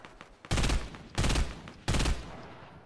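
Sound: gunfire from shooting in the video game Fortnite

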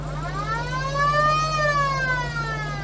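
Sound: siren on a tank

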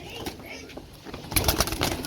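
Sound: racing pigeons cooing

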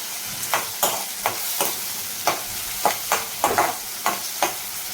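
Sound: sautéing onion and tomato in oil

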